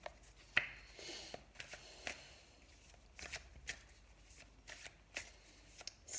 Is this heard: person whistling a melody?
no